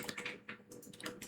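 Quick, soft clicking of keys on a computer keyboard as a short command is typed, faint and close, with no voices.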